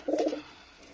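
Soft low cooing from a Mushaldom pigeon beside its first chick, one short close burst of throaty coos in the first half second, then quiet.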